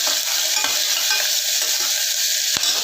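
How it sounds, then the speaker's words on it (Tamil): Onions, curry leaves and green chilli sauté in a pan for salna, a steady close sizzle broken by light stirring scrapes and one sharp clink near the end. "2 வெங்காயம், கொஞ்சம் கருவேப்பிலை, ஒரு பச்சை மிளகா போட்டு நல்லா வதக்கிடுங்க"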